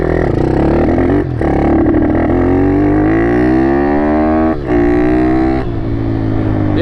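A two-stroke quad engine runs loud and close, its harmonic whine rising steadily in pitch as it revs, with brief dips where the throttle eases before climbing again.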